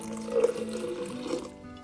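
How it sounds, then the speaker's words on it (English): Water from the fridge pours into a container in a kitchen, a steady liquid trickle lasting about a second and a half before stopping, close by with no talking. "We're gonna put some water in there."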